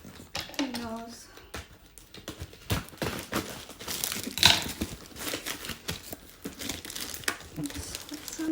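A hard plastic package holding trainers crinkles and crackles as it is pulled open, with repeated close rustles and a louder tearing burst midway while a person talks over it.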